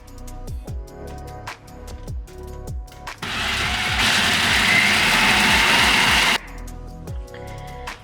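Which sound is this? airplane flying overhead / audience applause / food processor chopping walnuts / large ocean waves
food processor chopping walnuts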